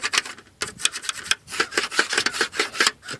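A pencil scratches and rubs across a pool wall while marking a skimmer cutout, giving a run of short, close, papery strokes in uneven bursts with brief pauses between them.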